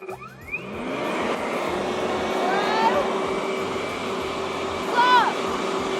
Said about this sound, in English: unlike most leaf blowers, this fan spins on its side. And so if I switch it on